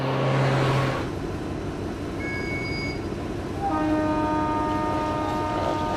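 A Trans-Mongolian railway train rumbles steadily with a continuous roar, and drawn-out horn-like tones sound partway through.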